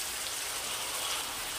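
Chopped tomatoes and spices sizzle while frying in a pan, a steady close hiss with fine crackle and no voices.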